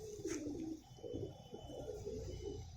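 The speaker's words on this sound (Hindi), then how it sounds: "ये मेरा मकोया है, मकोई नस्ल में से पट्ठा है।" A Makoya breed pigeon coos softly in a steady series of low, throaty coos, close by and fairly quiet, with no talking.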